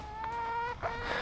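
Chickens on a snowy hobby farm clucking and giving drawn-out, tonal calls as they are let out of their coop, close and clear with only a faint background.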